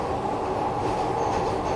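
A Glasgow Subway train under automatic operation in Train Simulator runs steadily with a continuous rumbling rail roar and faint wheel clatter, close and even throughout with no voices.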